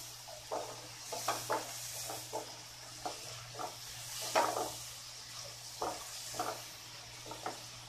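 Jackfruit curry spice paste being stirred and fried in a pan, with a soft steady sizzle under repeated scraping strokes of the spoon at an irregular rhythm, close and moderately quiet.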